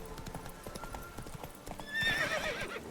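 A horse in The Witcher 3 gallops with rapid, steady clip-clop hoofbeats and gives a loud whinny near the end, alone and close.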